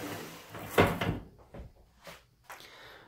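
Drawer on a workbench in a tiny apartment workshop sliding open, a sharp wooden thunk and slide followed by a few quieter knocks and rattles, close up and without talking.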